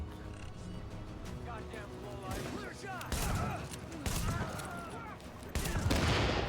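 Video game gunfire with grenades being shot out of enemies' hands in an apocalyptic New York City setting: repeated sharp shots and bursts over a busy game mix, growing louder toward the end, with someone talking throughout.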